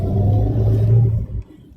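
An older Toyota Avanza's engine revs under light throttle, a steady low rumble held close and loud for over a second before dropping off abruptly.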